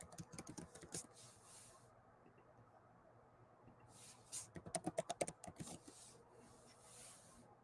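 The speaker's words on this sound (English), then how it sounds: "I'm also like typing here too, multitasking." Bursts of quick clicking keystrokes on a computer keyboard, close and fairly quiet, with one run at the start and a denser flurry in the second half, separated by a quiet pause.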